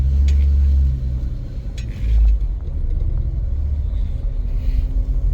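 A 1951 Chevrolet Bel Air with a three-speed manual and Truckstell overdrive pulling away in first gear, a loud low engine rumble that swells and dips as it accelerates, heard from inside the car without talk.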